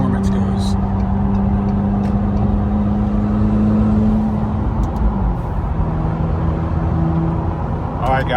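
McLaren 720S with a 1000 hp build cruising at about 85 mph on a highway, a steady loud engine drone and road roar filling the cabin throughout, with someone talking over it.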